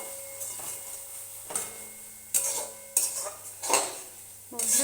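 Marsum curry being stirred and sautéed in a pan, with a spoon scraping and clinking against the metal in a series of separate strokes over a faint steady background hum, close and clear with no talking.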